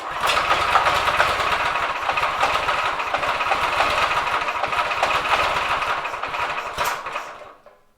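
A drift trike's small motor idles close by with a fast, buzzy, rattling putter that runs steadily and then dies away at the end, with no voices over it.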